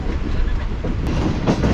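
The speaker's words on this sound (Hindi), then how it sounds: "ट्रेन हमारे जो है वो सिंध की पटरियों पर हल्के हल्के दौड़ा जा रही है" Green Line Express economy-class train rolling gently over tracks in Sindh, a steady rumble with soft rhythmic clickety-clack from the wheels, heard from inside a quiet carriage with no voices.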